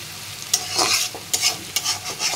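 Ghima greens stir-fried in a pan, heard as a few distinct bursts of scraping and sizzling as the spatula turns the leaves, each stroke separated by brief quieter gaps.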